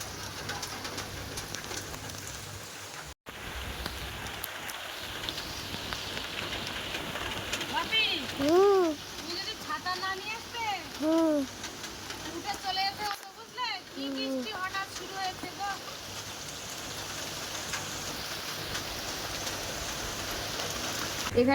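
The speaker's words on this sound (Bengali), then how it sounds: "ছিপ ফেলতে না খেলতে কিন্তু বৃষ্টি শুরু হয়ে গেছে" Steady rain patters throughout beside a pond, while pigeons coo intermittently nearby over the constant wash of falling water.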